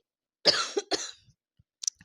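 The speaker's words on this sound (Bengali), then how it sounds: "কাশি হয়ে গেছে গো মারাত্মক।" A person coughs hard in a close, indoor setting: two heavy, raspy coughs in quick succession, followed by a couple of fainter short coughs or throat sounds, with no talking.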